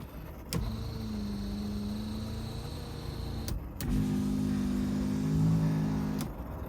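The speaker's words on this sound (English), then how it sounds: "The windows run smoothly." Electric power windows of a 1982 Alfa Romeo GTV6 run twice, each a steady motor whir lasting about three seconds and ending in a click, close and clear with no talk.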